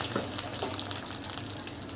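Fish roe dropped into hot oil salted against spattering, giving a steady close sizzle and frying crackle with a few brief brighter pops over about two seconds, no voices.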